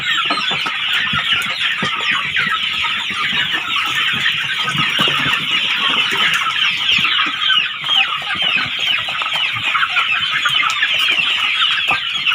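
Pradu Hang Dam chickens on a small Thai farm cluck in a dense, continuous flock chorus, loud and close throughout, with no voices.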